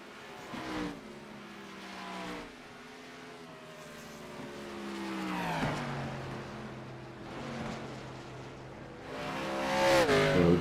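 Race cars on the Iowa track at an LSRL Wilder Graphix Cup event, engines revving and rising in pitch through the turns, with several cars passing in surges that grow louder toward the end.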